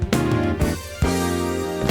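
A rough home-made Logic demo of a pop song, built entirely from MIDI strings and MIDI drums, plays alone with steady sustained chords and sharp drum hits near the start and around the one-second mark.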